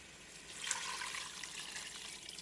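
Water streams into a pot of seasoned oxtail, a soft, continuous pouring splash that swells shortly after it starts and then holds steady until the end, with no voices.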